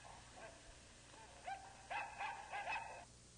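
Sparko, the 1940 robot dog built as a companion to the Electro robot, gives a short series of four or five barks, faint at first and then louder, over a soft hissy background.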